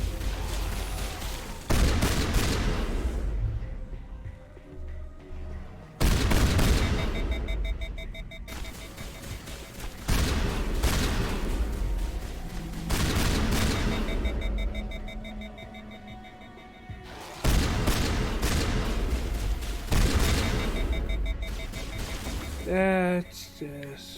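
Shotgun blasts in a video game boom out about every four seconds, six in all, each trailing a decaying tail, with faint electronic beeping tones underneath.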